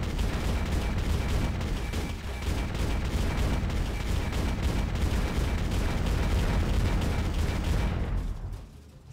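Gunfire from the video game Bad Bots: dense, rapid shooting with booming impacts that runs continuously for about eight seconds, then cuts off abruptly into quiet.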